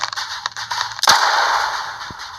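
Sharp gunshots in the Impossible Squad video game: a quick burst of snappy cracks, then one louder bang followed by a brief ringing tail, set over game background noise.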